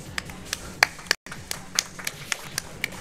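An audience at a live speedrun event for I Wanna Kill The Kamilia 2 claps in scattered, sparse taps, a few hands at a time, with a brief dropout in the middle.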